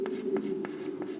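Chalk or marker writing on a board during a class 10 coordinate geometry maths lesson, four short regular scratchy strokes over a steady low room hum, close and fairly quiet.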